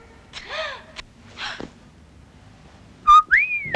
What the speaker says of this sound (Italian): Ma chi ti ha dato il permesso da fischiare?